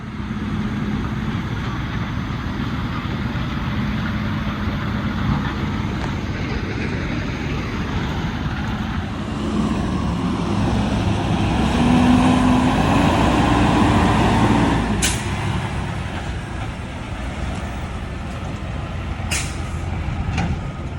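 A semi truck pulls away and drives off, its engine a low steady rumble that swells then fades, with sharp air-brake hisses near the end.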